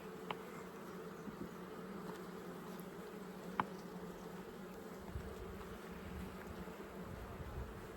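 Steady, low buzzing of many honeybees swarming close by around an open hive, a continuous hum with no voices.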